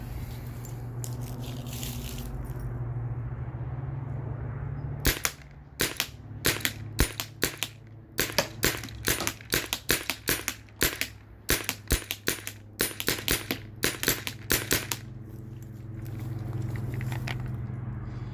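Spyder Rodeo paintball marker with iron sights firing at a target over 35 feet away, about twenty sharp, close pops in quick, irregular bursts, with quiet outdoor background before and after and no talking.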